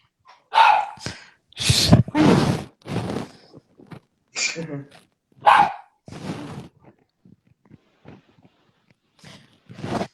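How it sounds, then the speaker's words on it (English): A pet dog barks in short bursts at close range during an exercise session at home, with a person talking between and over the barks. "My dog's name is Sunny"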